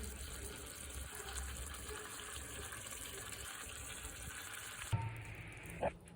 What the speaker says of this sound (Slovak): Teraz sa to troška orestuje z druhej strany.